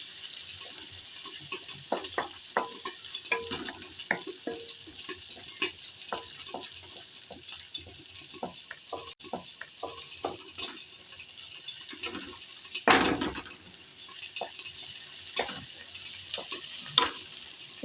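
Ginger sizzling in a hot pan with chillies, with frequent scraping stirs and taps of a spatula over a steady fry, close up and with no voices.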